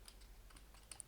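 Quiet, close clicking of computer keyboard keys in a short irregular burst while a router command is typed.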